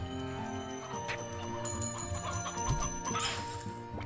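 Chicken clucking in the Slime Rancher 2 video game, a busy cluck-and-rooster call heard over dense game music and ambient tones, with no talking.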